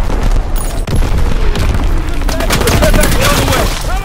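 Artillery battery fire in a combat video game: heavy booming blasts and rumbling explosions layered with rapid gunfire, loud and continuous, with shouted voices mixed in.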